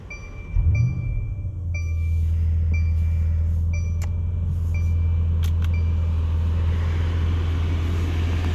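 A 2019 Mercedes-Benz S560 Cabriolet engine cranks and catches with a short loud surge, then settles into a steady, low, even idle, with a few soft electronic chimes above it.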